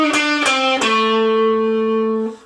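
Blues guitar lead lick on electric guitar: three quick picked notes followed by a sustained, ringing bent note that holds for over a second before cutting off, played close and clear with no talk.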